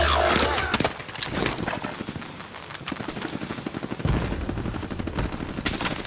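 Rapid gunfire in the video game Warzone, dense machine-gun bursts and scattered shots cracking almost nonstop throughout, loud and close.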